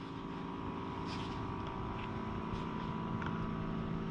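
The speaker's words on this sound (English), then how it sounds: "We'll get this Benelli going." Benelli motorcycle engine idling steadily nearby, a continuous low mechanical drone with a faint whine, heard alone without talk.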